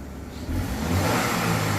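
A Chevy Cobalt engine, just repaired after an exhaust leak, starts quiet and then rises into a sustained rev, with a close, throaty exhaust note that holds steady to the end.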